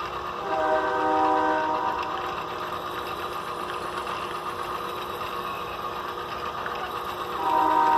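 A train rumbles steadily in the middle distance, with tonal horn-like notes rising at the start and end, a real train passing while an HO scale model locomotive is being worked on.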